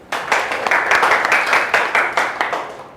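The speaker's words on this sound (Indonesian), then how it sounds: "Ya, beri tepuk tangan." Clapping from a small group, likely a classroom during a biology lesson, with distinct overlapping claps in an uneven rhythm, fairly close and loud, rising quickly and sustained for a few seconds.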